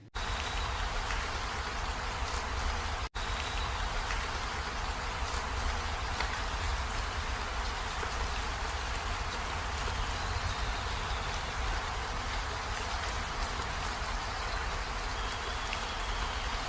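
Steady heavy rain pours down in a dense, continuous hiss, unbroken and fairly loud for the whole stretch.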